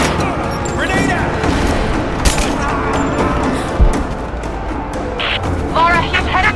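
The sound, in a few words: gunfire and grenade explosion in the video game Rise of the Tomb Raider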